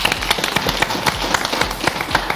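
A café audience claps in loud, close, uneven bursts for a performer, with distinct individual claps and rhythmic peaks rather than a smooth wash.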